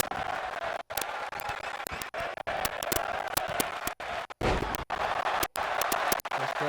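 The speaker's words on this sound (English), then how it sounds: "This crowd chanting women's wrestling." A wrestling crowd chants during a women's wrestling match, a rhythmic, pulsing arena chant with claps that keeps a steady beat at moderate loudness.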